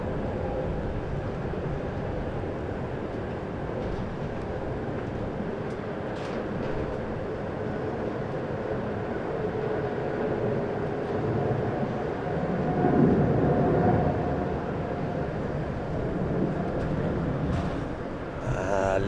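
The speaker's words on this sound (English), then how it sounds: "that was a Virgin A350" A Virgin Atlantic Airbus A350 passes at Heathrow Airport, a steady broad engine roar that swells toward the middle and then eases, heard without talk.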